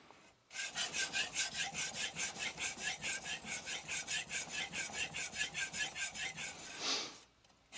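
A Tojiro kiritsuke knife is sharpened on an Arashiyama 1k whetstone with about two dozen even, rhythmic back-and-forth strokes, a close, gritty rasp that starts and stops cleanly, with no talking.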